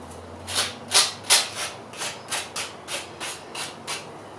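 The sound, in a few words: sanding block rubbing the edges of a dish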